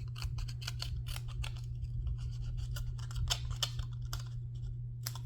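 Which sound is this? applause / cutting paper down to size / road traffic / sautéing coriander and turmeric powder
cutting paper down to size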